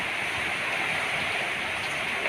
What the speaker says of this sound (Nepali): सिसा छ बाहिरबाट एउटा पानीले हानिरहेको छ